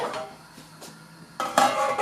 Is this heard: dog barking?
no